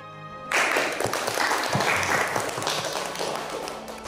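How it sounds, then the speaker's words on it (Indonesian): Light applause from those present follows the signing of the Renville Agreement in a historical drama, beginning abruptly and continuing as a soft, even patter of clapping and tapping. "diikuti oleh tepuk tangan ringan dari semua yang hadir"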